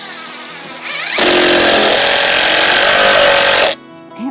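Power screwdriver driving a screw into a curved deck board to pull it down tight, one loud sustained whirring burst of about two and a half seconds, close by, with no talk.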